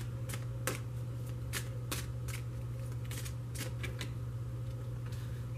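Oracle cards being shuffled and laid out on a table, a run of soft, scattered papery flicks and taps over a steady low hum, with no talking.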